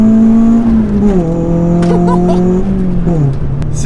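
Renault Clio 2-litre naturally aspirated engine pulling hard under acceleration, a loud, steady, close engine tone that rises and dips slightly with gear and throttle changes, with no talk over it.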